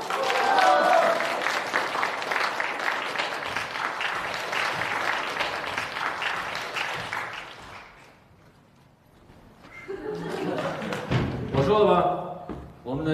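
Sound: audience applause at prize event

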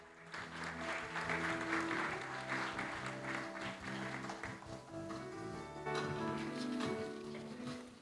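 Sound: audience applause welcoming the Seoul mayor

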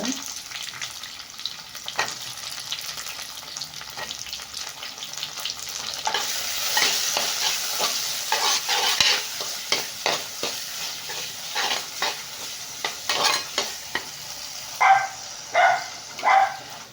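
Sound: sautéing tamarind and tomatoes in a pan

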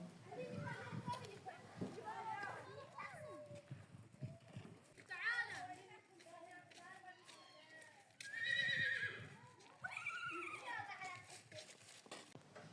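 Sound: horse neighing sound imitated by child or played on mobile

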